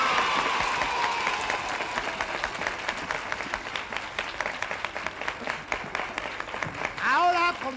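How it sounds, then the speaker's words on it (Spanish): A studio audience at a 1974 Christmas children's television show claps in a full round of applause that fades gradually, with a voice talking over the end. "¡Un aplauso para él!"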